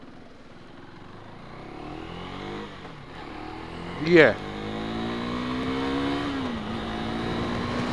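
A 2026 KTM Duke 390 motorcycle engine revs up loudly and climbs in pitch, with a sharp surge midway, while someone talks in Hindi over the ride.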